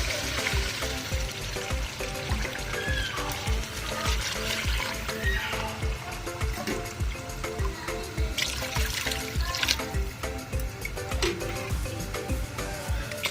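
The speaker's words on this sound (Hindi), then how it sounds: "अब हम यखनी के लिए इसके अंदर पानी ऐड करेंगे" Water poured into browned chicken in a pot to make stock for chicken pulao, a faint continuous trickle and splash running steadily for several seconds.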